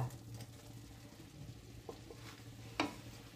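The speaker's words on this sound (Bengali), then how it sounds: "এবার মশলার সাথে ভালোভাবে মিশিয়ে দিচ্ছি।" Drumstick flowers and vegetables get stirred with spices in a pan, a faint, low sizzle with a few soft scrapes and one sharper knock near the end.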